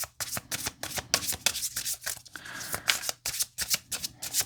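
Tarot cards are shuffled in quick, uneven bursts of riffling and sliding, close and crisp, with short pauses between handfuls and no talking.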